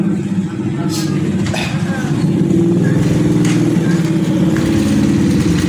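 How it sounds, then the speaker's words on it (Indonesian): Honda motorcycle with no battery fitted, already kick-started and running: a steady, fairly loud engine idle close by with a faint rise in pace partway through. "ini akan coba kita engkol apakah bisa menyala tanpa aki"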